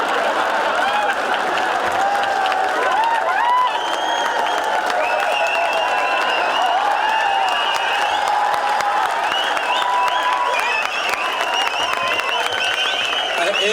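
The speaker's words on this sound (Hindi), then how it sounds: "रहमत भाई के लिए बहुत सारी तालियाँ यार" Dense, continuous applause and cheering from a live audience at a comedy show in Dubai, steady and loud throughout with overlapping claps and crowd voices.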